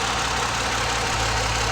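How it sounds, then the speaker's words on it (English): Ford Escape engine idling rough with fuel injector 4 switched off, a continuous loud, uneven rumble with a stumbling, lumpy beat, close by and free of talk. "So let's go ahead and turn this injector 4 off. The engine is now stumbling."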